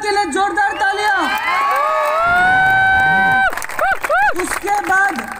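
A crowd cheering and whooping loudly for a guest at a direct selling event, with rising and falling shouted voices and a busy, continuous roar of applause.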